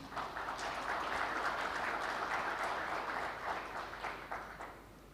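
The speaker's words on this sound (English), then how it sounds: "give a great clap of hands for all of these guys coming here" An audience applauds a panel at the TV Summit 2025, a steady, fairly soft patter of many hands clapping together that gradually thins toward the end.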